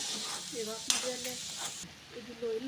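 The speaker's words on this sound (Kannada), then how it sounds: "ಚೆನ್ನಾಗಿ ಮಿಕ್ಸ್ ಮಾಡ್ಕೊಳ್ಬೇಕು ಮೊಟ್ಟೆ ಹಾಕಿದ್ಮೇಲೆ" Egg being stirred and mixed as it fries in a pan, a soft continuous sizzle with scraping strokes, while a voice murmurs faintly in the background.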